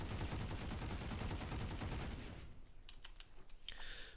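A long continuous burst from the EM6 machine gun in the Planetside 2 video game, rapid loud evenly spaced shots for about two seconds, then faint clicks and small sounds as the firing stops.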